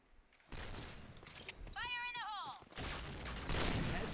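Gunfight in the shooter Point Blank, sharp gunshot bursts and booms near and loud, interrupted by a brief whistling effect, with a voice talking over the action.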